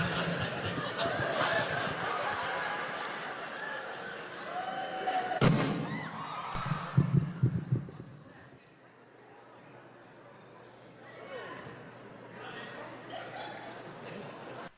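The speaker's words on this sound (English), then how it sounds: "what you in the audience just heard was a faulty monitor exploding" A faulty stage monitor explodes during a stand-up comedy show, giving a sharp, loud bang and a few thuds over crowd noise and talk, then a quieter stretch with the audience murmuring.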